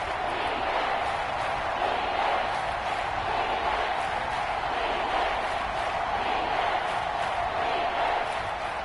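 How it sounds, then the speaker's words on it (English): A huge stadium crowd at Arrowhead roars steadily during an NFL playoff game between the Bills and Chiefs, a dense, unbroken wall of noise with no breaks. "The Arrowhead crowd in full roar"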